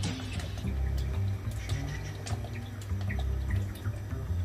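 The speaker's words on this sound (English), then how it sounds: "So next up, I'm going to put some Worcester sauce in." Worcestershire sauce poured into a pot of tomatoes and water for beef short ribs, giving a soft, steady liquid trickle with light drips, close and moderately quiet.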